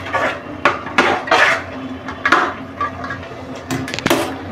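A spoon presses and mixes mawa into bottle gourd halwa in a pan, giving a string of close, irregular scraping and clacking strokes, about a dozen in quick bursts.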